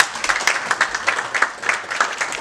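An audience claps in welcome for a visiting comedian at an event, a short burst of dense, lively applause from a nearby crowd that rises and falls in uneven waves.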